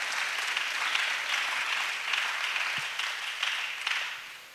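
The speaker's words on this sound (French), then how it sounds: "acclamation" A church congregation at a pastoral gathering breaks into applause and acclamation, a continuous crowd of clapping with slight swells, fairly distant and moderate in level.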